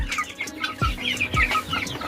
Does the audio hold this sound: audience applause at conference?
no